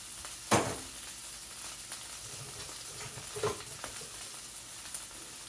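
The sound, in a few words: sage sausage frying in olive oil in a pan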